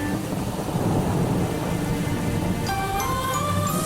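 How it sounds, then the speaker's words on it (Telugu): Steady, heavy rain falls with deep rolling thunder rumbling underneath throughout, and light tinkling drips appear near the end. No voices. "వర్షం పడుతుంది."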